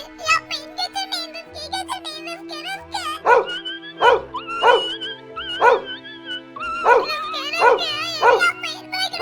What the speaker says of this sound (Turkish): Kendi köpeğim beni ısırdı ne yapıyor bu köpek ne yapıyor?